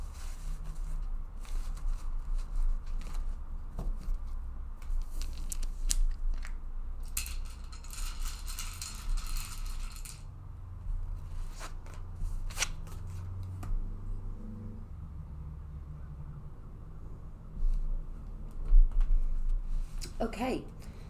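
A deck of cards being shuffled at close range, soft papery riffles and flicks coming in irregular bursts over a faint background murmur, with a denser flurry of shuffling partway through.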